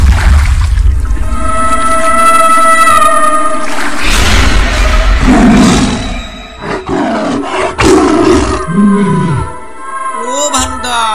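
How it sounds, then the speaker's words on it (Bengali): A tiger roars in a Bengali horror cartoon, one long, loud, sustained roar over an eerie backing score, trailing off into growling rumbles and shorter roar bursts near the end. "ও তো বাঘ।"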